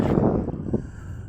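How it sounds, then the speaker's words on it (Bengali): Cool sea wind blowing along the seafront at Dammam, Saudi Arabia, heard as a low, continuous rumbling buffet against the microphone that is strongest at the start and eases slightly toward the end. "ঠান্ডা হাওয়া"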